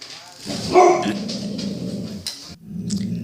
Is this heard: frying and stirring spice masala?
no